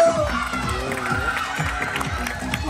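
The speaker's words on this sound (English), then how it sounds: "Let's have a nice round of applause for Miss Chantel!" Circus audience in the UK cheering and calling out in a steady crowd roar, with music-like tones running underneath throughout.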